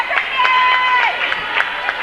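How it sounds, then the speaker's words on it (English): Otter Valley fans in a gym at a girls varsity basketball playoff, their banging and cheering rising as a distant crowd roar under a commentator's voice, with faint shoe squeaks and thumps. "I don't know if you hear the banging and the cheering in the background,"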